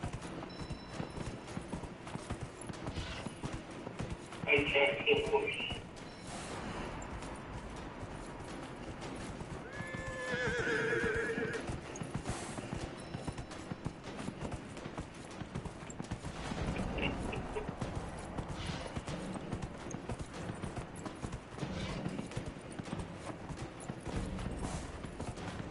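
Rhythmic clip-clop of horse hooves with a couple of neighs in the Dragon Age video game, faint and steady under game ambience, with occasional clashes and bursts of sound.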